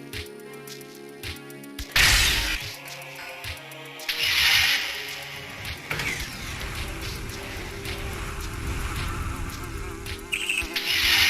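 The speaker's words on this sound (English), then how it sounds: "Stinking bee." Buzzing bee enemy in the Nintendo DS game Metroid Prime: Hunters, a loud droning buzz that starts suddenly and persists amid game effects, shifting in intensity with bursts of other electronic sounds.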